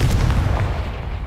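A Confringo spell explosion in the video game Hogwarts Legacy, a loud, deep boom that rumbles through its short span.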